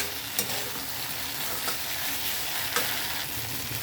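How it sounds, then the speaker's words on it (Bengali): Mustard paste stirred into okra frying in a pan for a Bengali chorchori gives a steady, close sizzle with a few soft spoon scrapes against the pan, and no voices. "সর্ষেটা দিয়ে আমি হালকা একটু ভেজে নিয়েছি।"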